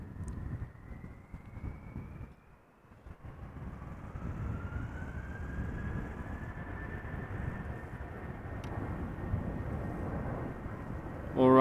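A Delta Air Lines airliner moves along the ground at Amsterdam Schiphol Airport, bound for Boston, with a steady engine roar and a rising, whining tone that climbs slowly, moderately loud with a short dip partway through.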